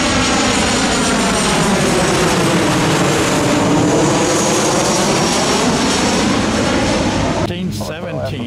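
A Southwest airliner on approach to the runway passes overhead, a loud sustained engine roar with a sweeping drone that fills the scene, then tapers near the end as a voice briefly speaks.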